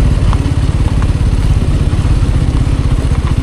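A motorcycle rides over a rough, bumpy road on the Mumbai–Goa highway, with a loud, close, pulsing engine drone and rattling, jolting thumps running continuously throughout.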